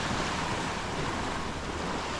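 Waves on a long, secluded sandy beach at Koh Rong, Cambodia, wash in as a continuous, fairly close surf, with wind buffeting the microphone throughout.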